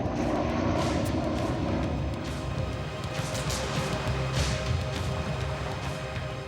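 A military transport aircraft's engines give a steady, loud, continuous roar that fills the whole stretch without a break.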